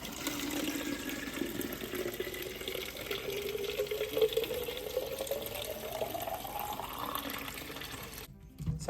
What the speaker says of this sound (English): All I do is take my bottle, fill it with water.